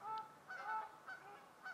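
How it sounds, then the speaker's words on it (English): Geese honking as they fly past an autumn riverside wild camp, several clear, fairly close calls in uneven bursts over quiet surroundings. "as the geese honk by."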